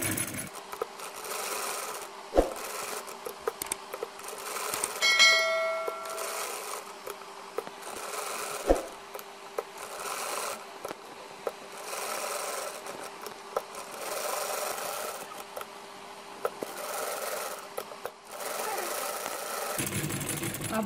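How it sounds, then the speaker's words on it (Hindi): Sewing machine stitching a star piping loop neckline, running steadily for about twenty seconds at close range with a continuous mechanical whir and a few sharp knocks. "अब हम इसको सिलाई लगाएंगे।"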